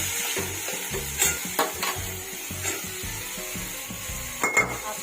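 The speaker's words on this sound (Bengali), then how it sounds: "দিয়ে দিলাম ছোর আর আলুটা ভালোভাবে কষতে থাকবো" Banana stem and potato fry in a pan for a vegetarian curry, a soft sizzle under repeated scraping and knocking as a spatula works the pieces, close up with no talk.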